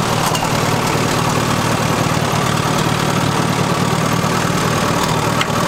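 A tractor engine runs steadily up close as it pulls a loaded bush hog, giving a loud, even, unbroken rumble with a rough mechanical texture throughout.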